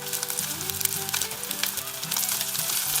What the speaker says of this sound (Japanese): 焼き目がつくまで焼きます。